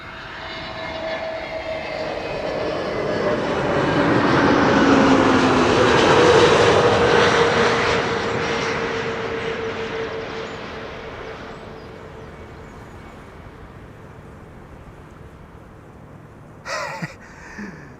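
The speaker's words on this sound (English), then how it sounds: "Tap Portugal coming in from Lisbon," A TAP Portugal Airbus A321neo arriving from Lisbon roars steadily, its engine noise swelling to a broad peak near the middle and then slowly fading as it passes, with a brief clatter near the end.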